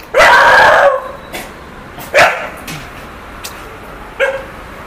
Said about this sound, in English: There's a lady and Tom is trying to shout bark on that lady